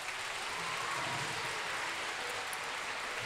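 Steady applause from an audience filling a concert hall in Sofia's Bulgaria Hall, even and continuous from start to finish with no voices standing out.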